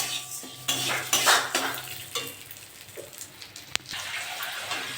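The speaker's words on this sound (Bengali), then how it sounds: "ডালটা একটু ভেজে নেবো" Lentils fry in a pan with a soft sizzle as a metal spoon stirs and scrapes, giving several clattering strokes and one sharp clink against the cookware, close up with no talking.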